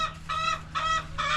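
Backyard chickens clucking during morning farm chores, three repeated close, fairly loud clucks in a steady rhythm over a low background hum.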